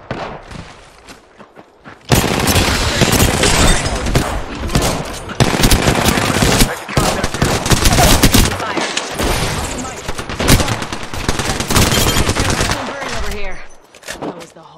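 Rapid gunfire from an Apex Legends match, a Nintendo Switch player in a PC lobby, dense bursts of shots filling most of the stretch after a quiet start.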